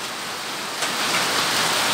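Heavy rain with hail pours down over sand in a steady, dense hiss that builds slightly louder partway through, with no talk.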